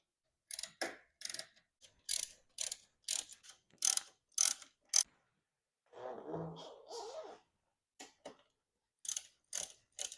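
A hand ratchet clicks in quick bursts while tightening 10mm radiator bolts on a Kawasaki Vulcan 750 motorcycle, with a short rougher mechanical rasp in the middle and a few more clicks after a pause.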